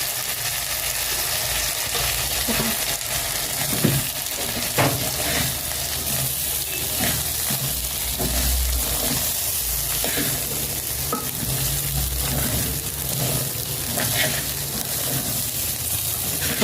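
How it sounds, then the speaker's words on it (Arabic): Rice fries in oil in a pot for Egyptian rice with vermicelli, giving a continuous near sizzle while a spoon stirs and scrapes steadily through the grains, with a few sharper knocks along the way. "نقلب لغايه ما اتاكد ان الزيت وصل لحبايه حبايه"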